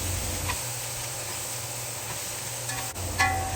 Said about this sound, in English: So we're going to continue tossing these peppers and onions until they start softening up.